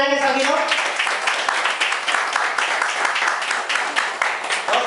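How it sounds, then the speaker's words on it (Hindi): A room of people clapping loudly for a boy's birthday at a Modicare business meeting, dense crowd clapping that follows a brief voice at the start and carries steadily to the end. "उसके लिए जोरदार तालियां बजाएंगे सभी लोग।"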